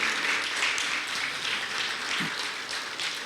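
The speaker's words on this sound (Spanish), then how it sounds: "aplauso a nuestro Dios" Church congregation applauding during a worship service, a dense, sustained roar of many hands clapping at steady loudness throughout.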